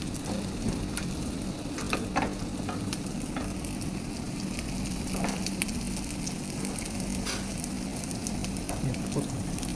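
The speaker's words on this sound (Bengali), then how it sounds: "কাবাবটাকে আমি এখন শ্যালো ফ্রাই করি" Beef keema tikka kebabs shallow-fry in a pan on low heat, giving a steady dense sizzle and crackle with faint occasional pops, close and continuous, with no talking.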